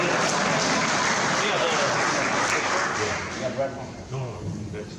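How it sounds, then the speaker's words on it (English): Crowd applause in a gym during a celebration honoring former basketball players, broad sustained clapping from many people that softens toward the end as voices begin over it. "This is the only time an official will get applause"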